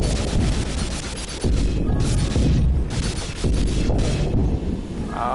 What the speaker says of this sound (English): it's another cannon! My eardrums! They're so loud!